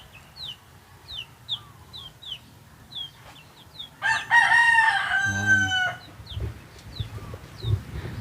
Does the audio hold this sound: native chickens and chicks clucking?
yes